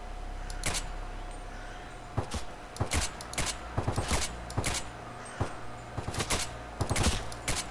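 Gunfire in the video game S.T.A.L.K.E.R.: Clear Sky rings out as sharp, separate shots and short bursts at irregular intervals over a steady low hum, fairly close and loud.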